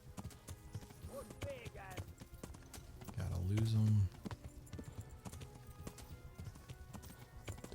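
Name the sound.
horse galloping in video game Kingdom Come: Deliverance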